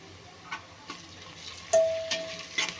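Ginger garlic paste, about a spoonful, frying in a pan for soybean pulao, with soft sizzling under scattered stirring clicks and taps of a spoon against the pan, fairly quiet and close.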